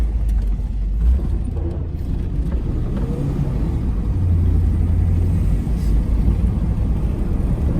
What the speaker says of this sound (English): Just a smooth running car